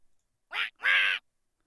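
A duck quacking in the game Dread Weight: two quick nasal quacks close by, the second longer and louder, with nothing else around them.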